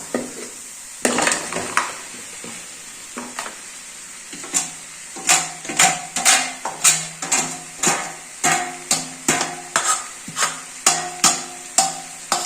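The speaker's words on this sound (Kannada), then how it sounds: "ಸ್ವಲ್ಪ ಉರಿ ಜಾಸ್ತಿ ಕೊಟ್ಕೊಂಡು ಚೆನ್ನಾಗಿ ಇದನ್ನು ಫ್ರೈ ಮಾಡ್ಕೊಬೇಕು." Small chopped pieces of fish head fry in a pan over high heat. Loud, rhythmic metallic clanks and scrapes of a spatula against the pan repeat about once a second over a background sizzle, with no talk.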